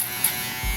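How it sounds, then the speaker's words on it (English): An electric shaver buzzes in a downstroke motion while blending a bald skin fade haircut, a brief close, steady hum with a slight bump partway through. "I'll also use my shaver in a downstroke motion to blend our last"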